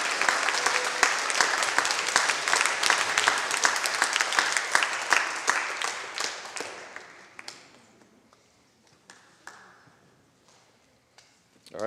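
Audience at a school geography bee at a Lutheran church gives contestants a round of applause, a dense burst of many hands clapping that tapers to scattered claps and near silence, with a few voices beneath.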